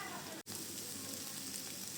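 Chicken and potato filling frying in a pan while being stirred, a steady close sizzle with a brief dip in the middle and no talking.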